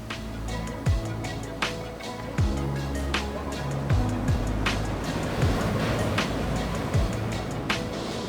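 Quiet ambience of an open beach on the Costa Blanca in Spain in January: a soft, constant wash of surf with faint distant traffic and occasional light knocks and thumps.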